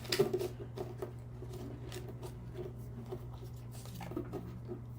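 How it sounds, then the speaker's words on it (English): Soft papery shuffling and light taps of oracle cards handled close by, a steady low hum underneath, no talking. "So I'm going to shuffle these back together."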